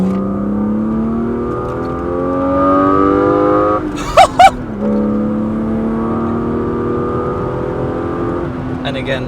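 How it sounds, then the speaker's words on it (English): A BMW E36 fitted with a Simota air intake revs hard in second gear toward the red line, the engine note climbing steadily, dropping briefly at a shift with a couple of sharp clicks, then pulling again. "second gear to red line."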